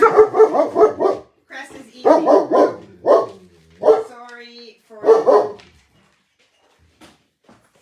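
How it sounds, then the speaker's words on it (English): A dog barks loudly nearby in quick bursts of several barks each, with short pauses between, while a person briefly speaks. "Sorry for the dog barking."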